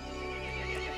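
A horse in the video game Resident Evil Village whinnies in one sustained, strained cry, loud and close, with a steady droning background underneath.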